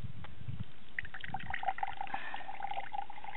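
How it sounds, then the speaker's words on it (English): Water poured into a simple homemade filtration system, a steady soft trickle and splash running continuously at close range with no talking. "Let's get to our third pour."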